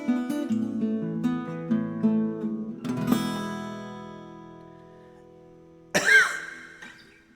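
A single sharp cough bursts out close to the mic near the end, right after a sung melody has finished and faded.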